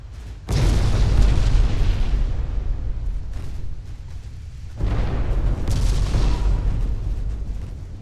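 Naval gunfire in the Ultimate Admiral: Dreadnoughts warship game rolls out as two long heavy booming salvos of shells fired and exploding, each a sustained rumbling roar that slowly fades, with no talking.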